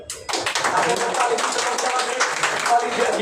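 Crowd clapping at a street protest demanding the removal of a city corporation's chief engineer in Dhaka, a dense, steady burst of many hands applauding together for about three seconds after a brief lead-in.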